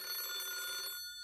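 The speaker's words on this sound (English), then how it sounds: "That's the phone ringing." Telephone bell ringing in a video game, a steady electronic ring sustained for about a second and then cutting off, clear and alone with no talk.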